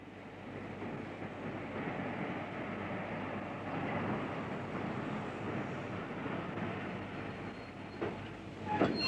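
A train running on the single-track West Highland line, a steady, fairly quiet rumble of wheels and carriage noise throughout, with a faint rattle and a slight swell near the end.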